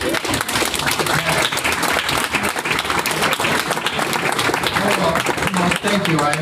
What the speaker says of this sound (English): let's just give him a round of applause for putting him out